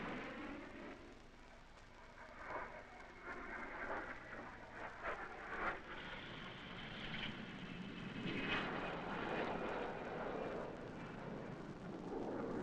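Military jet aircraft roar past in a broad, rumbling wash of engine noise that swells and holds steady, with no voices over it.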